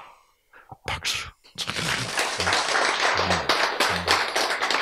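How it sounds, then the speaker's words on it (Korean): An audience at a Bible lecture bursts into applause after a short pause with a brief voice, then keeps up a steady, fairly loud clapping to the end. "박수."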